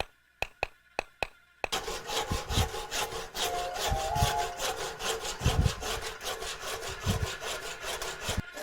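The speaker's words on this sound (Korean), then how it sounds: "장인이 톱으로 대나무 뿌리를 자르고" A few sharp taps, then a hand saw rasps steadily through bamboo root in repeated back-and-forth strokes, close and fairly loud.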